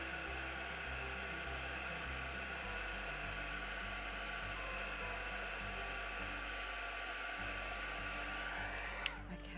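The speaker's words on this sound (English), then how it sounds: "Just grab my heat gun." Heat gun blowing hot air to set green paint on a glossy Australian scene, a steady loud whooshing roar running throughout with a faint click near the end.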